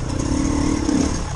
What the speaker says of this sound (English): Admit, I do like these long range trials bikes.